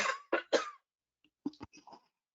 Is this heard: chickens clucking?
no